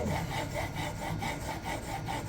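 A knife edge being sharpened on Xarilk diamond stones in a Hapstone R2 fixed-angle system, removing overheated factory steel: steady, close rhythmic rasping strokes with no talk.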